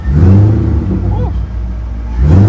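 Car engine revving hard with exhaust pops, a loud throaty rise and fall of revs with crackles, fading briefly mid-way before surging again, with a voice faintly present.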